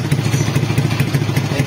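A Suzuki Smash 115 motorcycle engine turns over and runs roughly, a loud close rapid putter with a steady low pulsing chug, misfiring and failing to take throttle, no voices over it.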